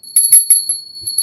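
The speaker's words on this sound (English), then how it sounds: "I'll ring the bell over both." A bell rung during a psychic tarot livestream, heard as several bright, high, metallic strikes in quick succession, with a steady high ringing tone sustained beneath them.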